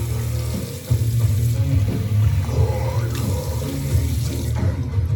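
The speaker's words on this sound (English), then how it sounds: "Just rinsing off the paint." Running tap water rinsing paint off, a steady splashing flow into a sink that briefly shifts as hands move through the stream, close and without talk.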